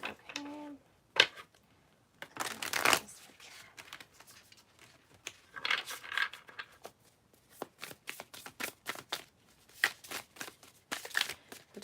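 Tarot cards handled and shuffled at an altar, giving repeated crisp riffling bursts and soft papery shuffles, close and fairly quiet, with a few short spoken moments between them.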